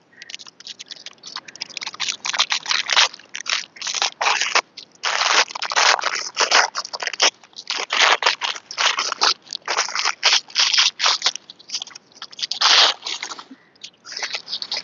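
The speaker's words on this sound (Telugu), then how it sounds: "ఇది పేపర్ తీసేసి చూపిస్తాను మీకు." Continuous crinkling and tearing of paper wrapping being removed from a snake gourd, close up, in dense uneven bursts with brief pauses, no voices.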